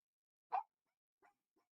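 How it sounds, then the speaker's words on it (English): A dog lets out one sharp bark followed by two softer, shorter yips, faint and isolated against silence. "He's doing his aggressive barking."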